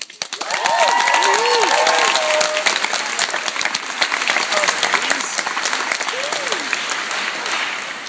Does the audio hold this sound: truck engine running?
no